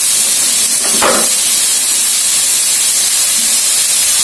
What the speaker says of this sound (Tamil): ஒரு 3 to 4 ஆனியன் வச்சிருக்கிறேன். இது நல்லா கோல்டன் ப்ரௌன் ஆகிற வரைக்கும் நல்லா ஃப்ரை பண்ணும்.